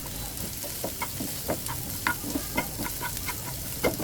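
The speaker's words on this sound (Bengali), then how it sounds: "পেঁয়াজ কুচি আর কাঁচামরিচ কিছুক্ষণ নেড়েচেড়ে ভেজে নেব।" Chopped onion and green chilies frying in a pan for potato chop, heard as a steady close sizzle broken by repeated rhythmic scrapes and taps of a stirring spatula, with no talking.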